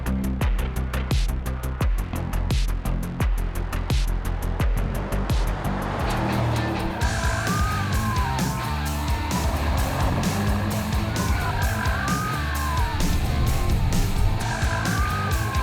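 A nearly 2.4-ton Mercedes-AMG GT 63 S E Performance hybrid drifting on a track, with a continuous loud roar and wavering, squeal-like tones rising and falling throughout.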